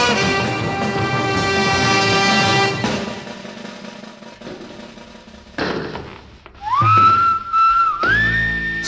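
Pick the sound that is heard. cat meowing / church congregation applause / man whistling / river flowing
man whistling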